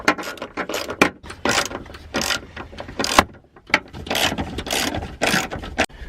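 A ratchet turns the bolts of a 1992-2002 Saturn beneath the carpet, with rapid clicking bursts in short repeated strokes, close and loud, and no talk.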